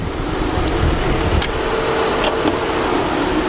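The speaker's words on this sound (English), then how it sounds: "it may be a little engine noise and that coming through at the moment" Several cars, including a 2014 Mitsubishi Outlander PHEV, idle steadily with a low, continuous rumble and air conditioning running on a hot day, with a few faint clicks and knocks over the hum.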